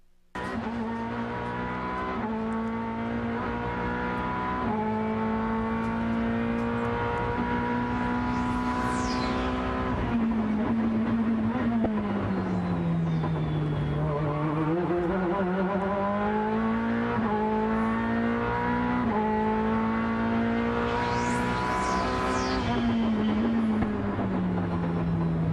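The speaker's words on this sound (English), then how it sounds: "listen to the note of the engine and hear the warble when it loses its traction over the bumps" A Risi Competizione race car at the 2008 Mobil 1 12 Hours of Sebring roars close and loud, its steady engine note rising and falling in a warbling pitch over bumps, with brief high squeals about a third and four-fifths of the way through.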